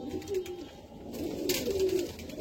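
Pigeons in a home loft coo in soft, low, throaty bursts, close by, several calls overlapping across a couple of seconds, with no talk over them.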